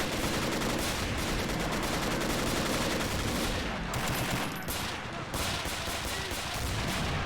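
Nonstop rattling bursts of MG42 machine-gun fire in the video game Army Men of War, dense and loud throughout with brief dips, and no talk over it.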